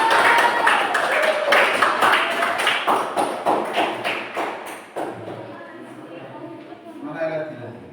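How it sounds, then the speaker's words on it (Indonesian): Audience clapping at a school awards announcement, a burst of quick claps that fades gradually over several seconds into quieter room sounds. "Tepuk tangan dong."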